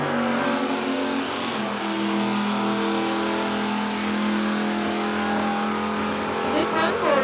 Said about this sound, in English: Looks like we're having a single right lane car finishing our Sportsman round 1 category here